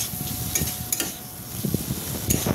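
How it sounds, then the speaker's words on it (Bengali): Spice paste for Bengali alur dom being sautéed and stirred in a pan, with steady low sizzling under intermittent scraping strokes of a spoon against the metal, close and moderately loud, no voices. "ওই যে পেস্ট করে যেটা রাখলাম ওইটাকে দিয়ে দিতে হবে, দিয়ে একটু হালকা করে কষিয়ে নিতে হবে।"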